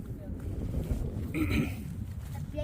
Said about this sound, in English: the wind is really picking up, so hopefully this turns out on the video